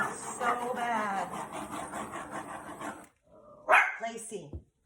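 A pet puppy barks and yips in short bursts after a stretch of steady talk, the sharp yaps loud and close in an otherwise quiet room.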